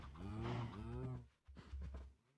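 A Minecraft cow lets out a drawn-out moo, then a second shorter, lower moo after a brief pause, heard clearly and close with no talk over it.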